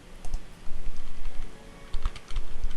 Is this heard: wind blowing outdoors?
no